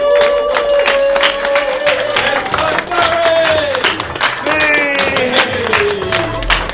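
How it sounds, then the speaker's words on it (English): An audience cheers and applauds for Barry Fry, a steady wash of clapping and whoops that stays loud and dense throughout. "Let's give a big cheer to the legend, Mr. Barry Fry."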